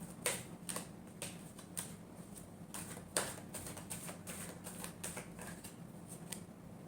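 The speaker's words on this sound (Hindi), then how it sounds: "last shuffle" A deck of tarot cards is shuffled, making faint, irregular light clicks and soft snaps of cards against each other, close by and quiet, with no talking.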